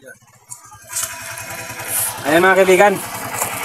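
A motorcycle engine starts and runs at a steady, close idle, its low throb continuing while someone talks over it.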